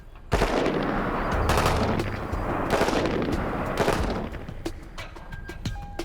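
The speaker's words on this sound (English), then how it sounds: "On full auto fire, the gun is cycling at around 750 rounds per minute." An M16 assault rifle fires on full auto in loud, rapid bursts of gunfire, the shots running together into sustained stretches with brief pauses between them and echoing tails.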